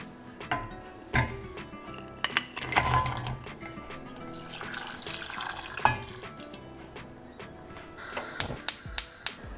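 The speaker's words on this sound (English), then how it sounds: "I'm going to put it into a small saucepan, and I'm going to add a cup of boiling water" Water runs from a tap with clinks of a small metal saucepan being moved while making date and tamarind chutney, ending in a few sharp taps near the end.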